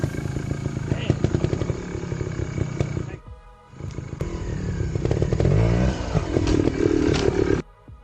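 KTM 200 trials motorcycle ridden during section practice, its engine revving and bucking with clutch and throttle control, loud and rough with a short drop in the middle before picking back up.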